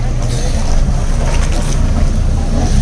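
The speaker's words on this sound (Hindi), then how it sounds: "ये देखिए एक बोट आया अभी" A motorboat returning from parasailing passes near Maafushi island in the Maldives, its low engine rumble mixed with heavy wind buffeting and open-water wash, steady and fairly close.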